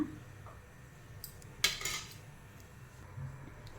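A pressure cooker lid clanks shut over vegetable pulao, with one sharp metallic clack and a short rattle of metal before the kitchen goes quiet again.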